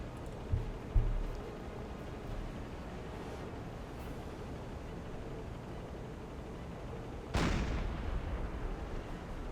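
Submarine deck gun firing in Silent Hunter 4: a sharp loud boom near the start, then a second heavy blast later with a rumbling tail, over steady low engine and sea drone.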